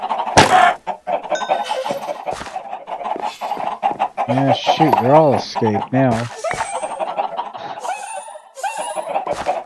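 Minecraft chickens clucking and squawking in a video game, several loud, close calls with sharp rising and falling cries around the middle, while someone talks over parts of it.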